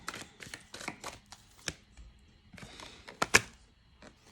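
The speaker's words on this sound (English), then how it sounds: "I want to get a good shuffle." New tarot deck being shuffled by hand, a run of crisp riffling and slapping card sounds with short pauses between bursts, close and moderately loud, no talking.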